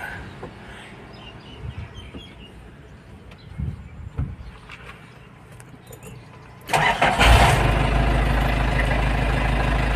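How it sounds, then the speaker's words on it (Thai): A used grey single-cab pickup truck, registered in 2003 with added bed side rails, is started with the key: quiet ambient sound with faint birds, then the engine catches abruptly and settles into a loud, steady idle close by. "ติดง่ายนะคันนี้ติดแล้วนะนี่บอกติดแล้วนะ"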